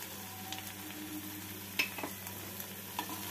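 Salt and sugar being stirred into cauliflower manchurian in a pan, with scraping and a few sharper knocks over a steady low sizzle, close and moderately loud, no voices.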